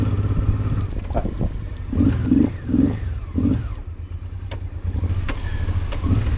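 A Honda Deauville 650 motorcycle engine revs in several short bursts while the rider turns around on a mountain track, the close throaty engine rising and falling over a steady idle, with light clatter.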